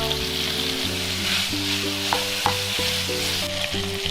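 Beef brisket is stir-fried in a pan with a splash of baijiu and light soy sauce, giving a steady, close sizzle with the scrape of stirring over background music.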